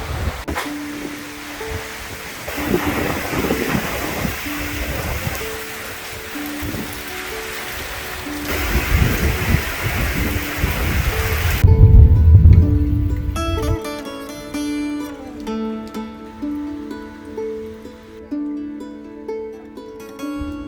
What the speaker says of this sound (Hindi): हल्की हल्की बारिश और बहुत ही ज़बरदस्त किस्म की हवा